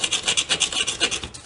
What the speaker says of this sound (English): And all I'm doing is just scraping along the top.